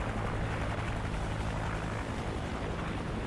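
A helicopter in the video game Call of Duty MW3 gives a steady, continuous rotor drone that holds an even loudness throughout, with no talk over it.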